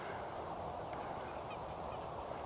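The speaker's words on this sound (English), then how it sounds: "Geese grazing, as it were, on farmers' fields." Geese grazing on farmers' fields by Loch Leven give a few faint, distant honks over a constant outdoor hiss.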